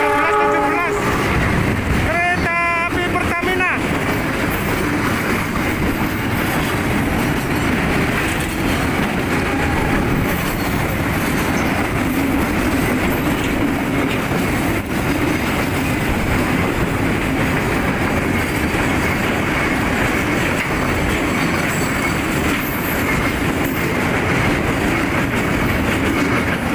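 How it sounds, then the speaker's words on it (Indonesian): A heavy diesel locomotive train rolls past close by at a level crossing north of Gubeng station, Surabaya, for a long stretch, a continuous rumble with rattling cars and a brief horn-like tone early on. "206 ini barusan meninggalkan stasiun Gubeng arah utara."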